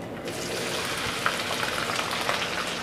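Okra sizzling in hot oil, a dense continuous crackle and spatter close by, steady throughout with no voices.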